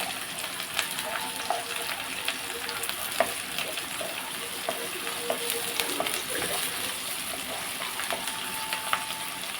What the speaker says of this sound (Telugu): ఉల్లిపాయ బాగా ఫ్రై అయిపోవాలి